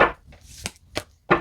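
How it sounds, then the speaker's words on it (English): Three quick, crisp riffling bursts of tarot cards being shuffled, close up, separated by short pauses with no talking. "Let me shuffle again."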